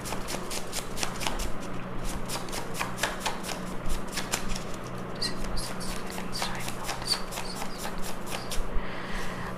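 Tarot cards are shuffled by hand close up in a continuous run of crisp, rapid riffling flutters and soft slaps, without speech.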